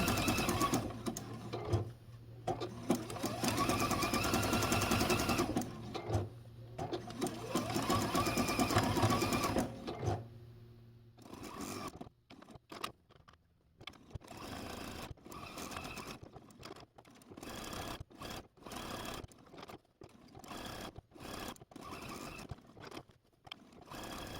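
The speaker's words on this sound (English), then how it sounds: "I'm going to do a stay stitch to begin with. I'll go around the leaf, do another stay stitch to end" Sewing machine stay-stitching around an appliqué leaf on a quilt block, with long close runs of fast rhythmic motor-driven stitching, then short stop-start bursts as the fabric is turned, and no talking.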